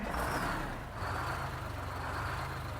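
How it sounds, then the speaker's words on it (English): A heavy GMC General truck engine in American Truck Simulator rumbles steadily at a low idle, with a deep continuous drone and no voices. "we'll go ahead and get the engine started here, and then we'll hop in"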